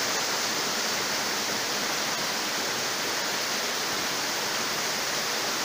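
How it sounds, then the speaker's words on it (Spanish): The Islavita waterfall near Chinácota, Colombia, pours with a constant, loud, dense hiss of falling water, unbroken and close. "Entonces vemos la caída de la cascada"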